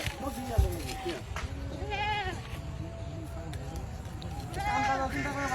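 A goat bleats a few times, wavering cries at moderate distance, mixed with background chatter and outdoor noise.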